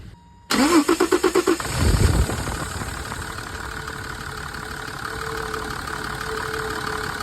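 An old budget car with a freshly refitted air filter cranks in a rapid series of even pulses for about a second, then catches with a brief low rev and drops to a steady, moderately loud idle.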